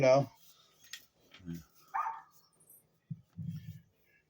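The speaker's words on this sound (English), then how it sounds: "That poor dog." A dog barks a few times and whimpers in short, uneven bursts, fairly close, mixed with other indoor noises.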